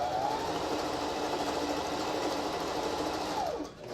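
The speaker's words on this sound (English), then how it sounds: "I'm just going to start stitching here, and I'm just going to be connecting my fabric all the way around." A sewing machine stitches fabric for a face mask with a continuous, even whirring hum, close and steady. It slows briefly near the end.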